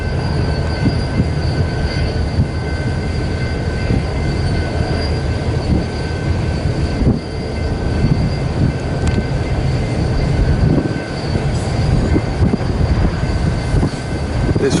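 An eastbound Union Pacific manifest freight train rolls into Fremont, Nebraska, on the Transcon line, with a loud, continuous rumble of wheels and cars and faint squealing throughout, no voices.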